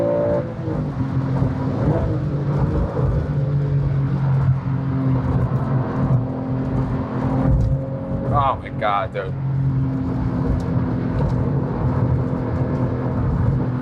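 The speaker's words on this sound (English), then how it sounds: "Yeah, this is not an easy car to drive fast whatsoever." A 2004 Porsche GT3 driven hard, its engine droning loud and steady from inside the cabin with rising revs and shifts, while someone talks over it throughout.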